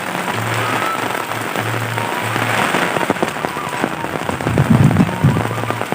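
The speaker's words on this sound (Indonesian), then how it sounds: "Tuh aduh hujannya besar sekali ya teman-teman" Heavy wind-driven rain pounding down in a Sundanese village, a loud dense roar of drops with sharper spattering bursts toward the end, no talking.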